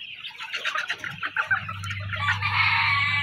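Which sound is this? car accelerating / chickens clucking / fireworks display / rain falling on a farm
chickens clucking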